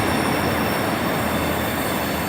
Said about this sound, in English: 15238 is a replacement train for another one which had broken down earlier